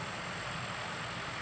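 A tractor engine running on a tomato farm during bed preparation, a steady low idling rumble with a constant hum, brief and fairly faint, with no voices.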